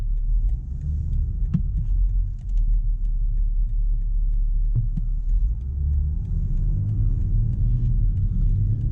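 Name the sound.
BMW X5 30d straight-six diesel engine rumble while driving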